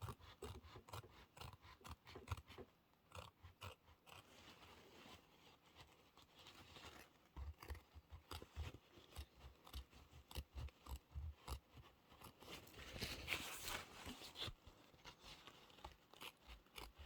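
Scissors snip through a tea towel in quick, close, quiet cuts, a rapid series of crisp blade strokes with short pauses, running almost the whole time.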